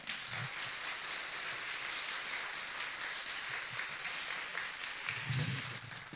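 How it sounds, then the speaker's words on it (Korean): A church congregation at a Sunday service claps to welcome a speaker, heard as a continuous, even wash of many hands clapping at a moderate distance. "우리 나오실 때 큰 박수로 우리 환영해 주시면 감사하겠습니다."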